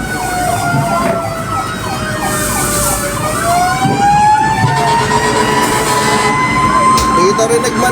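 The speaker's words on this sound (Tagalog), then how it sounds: "Nakakatakot yung tunog ng bumbero." Fire truck siren wailing loudly and steadily at a large fire in Kamuning near GMA, Quezon City, Philippines, its rising and falling tones overlapping with another siren amid street noise.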